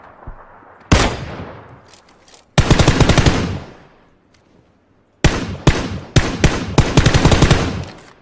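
Bursts of rapid automatic gunfire in the video game PUBG rattle out in three separate volleys, loud and close, each trailing off with echo.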